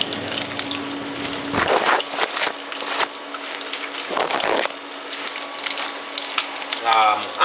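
Bacon sizzling and frying in a pan, a close, steady crackle broken by louder bursts of spatter and stirring.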